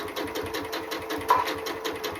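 A sewing machine stitches a seam on a baby burp cloth, its needle pulsing in a fast, even mechanical rhythm up close, with no talking.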